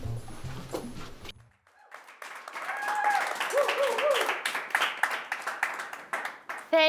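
An audience breaks into applause and cheering that builds and carries on for several seconds after a brief pause.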